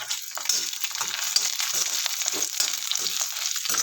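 Lentils (dal) fry in a generous amount of hot oil, giving a dense, continuous crackling sizzle close by with small bursts as they shift in the pan.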